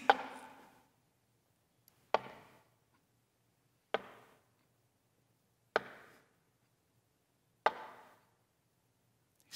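Knocking on a door: five sharp, separate raps spaced evenly about two seconds apart, each dying away quickly into silence.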